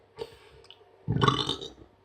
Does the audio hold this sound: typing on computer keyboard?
no